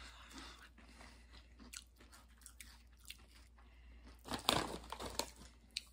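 Kettle brand apple cider vinegar potato chips are bitten and chewed close to the mic, with quiet crunches and mouth sounds and a denser burst of crunching near the end.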